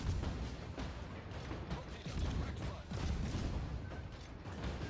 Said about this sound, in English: I'm going to engage in a gunfight